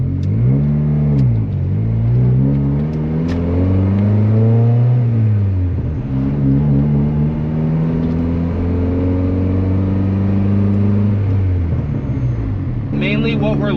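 A turbocharged Honda running on E85 fires up and pulls away, its engine note rising through a long climb, dipping and climbing again as it accelerates, loud and close throughout.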